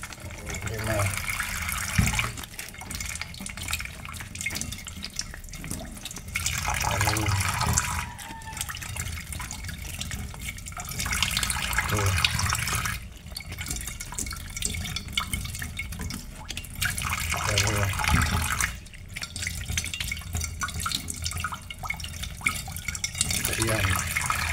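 Water runs from a tap in bursts, splashing and trickling into a container, with several short pauses between the pours and a few drips.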